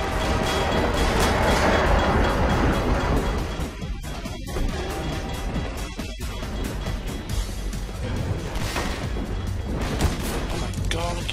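An approaching train in the video game Half-Life 2 roars loudly and steadily, with clattering, crashing bursts and rail rumble building across the scene, and no speech over it.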